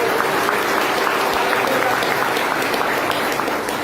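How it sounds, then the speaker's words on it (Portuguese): Church congregation applauding together, a steady dense wash of clapping from a crowd filling the room, with some voices mixed in. "Quem pode dar uma salva de palmas para Jesus?"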